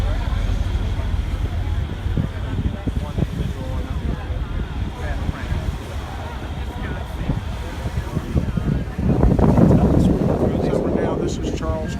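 Steady wind buffets the microphone aboard a boat at the mouth of Charleston Harbor, with a loud continuous rumble and low engine-like drone, and people talking partly underneath it.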